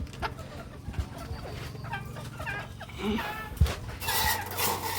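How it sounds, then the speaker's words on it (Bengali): Desi laying hens kept apart for pecking each other cluck and murmur close by, repeated short clucks over a low background rumble, growing busier toward the end. "এই যে এই হলো মুরগি, এটা ঠুকরা ঠুকরি করে এই কারণে আলাদা করে রাখছে।"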